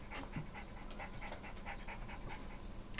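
A Red Alert 2 attack dog pants rapidly and steadily over the strategy game's background hum, with a faint whimper mixed in.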